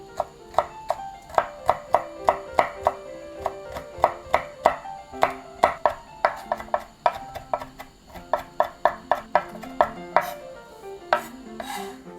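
Rapid knife strikes on a cutting board finely chopping red chili, a long run of crisp, close taps in a quick irregular rhythm with brief pauses between bursts.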